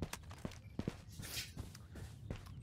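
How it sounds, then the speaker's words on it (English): Soft footsteps in the Ghosts of Tabor video game, a steady run of quiet irregular steps, fairly close, with no talk over them. "I heard footsteps"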